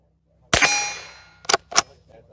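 A Rossi Gallery Gun .22 LR pump-action rifle fires one sharp shot at a shooting gathering, followed by two quick metallic clacks of the pump action being worked, close and loud with no talk.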